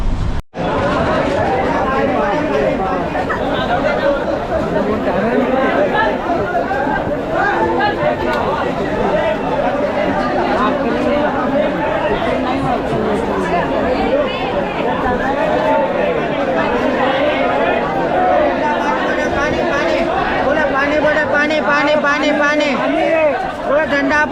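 Dense crowd chatter fills a packed Okha Express train carriage at Vasai, many overlapping voices forming a steady, loud babble that runs continuously close around the listener.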